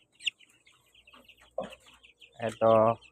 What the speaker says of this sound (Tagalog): Ayan yung mga sisiw.